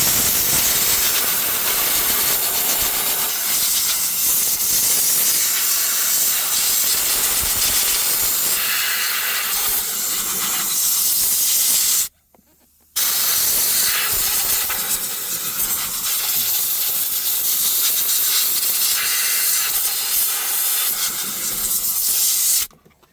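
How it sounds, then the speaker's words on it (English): Compressed air blasts steadily and loudly over the top of a 2014 Hyundai Elantra fuel pump module, a harsh continuous hiss broken by one brief pause before it resumes. "I got some compressed air, so we'll just blow it to make sure no debris remains on top"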